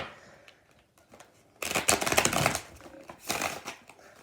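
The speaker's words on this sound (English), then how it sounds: "If my shuffling is making it hard for you to hear me" A deck of tarot cards is shuffled close by, first a few soft flicks and taps, then a loud rapid riffling cascade that continues in bursts, with no talking.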